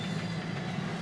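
A train rolls along the rails in the Resident Evil 0 video game, a steady low rumble with faint rhythmic rattling, brief and constant at moderate loudness.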